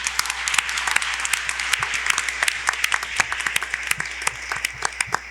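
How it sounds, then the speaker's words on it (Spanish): A hall audience at a book-fair tribute to José Saramago breaks into applause, many individual claps standing out sharply over a continuous crowd clatter, fairly loud and close throughout. "Un aplauso para los tres, por supuesto."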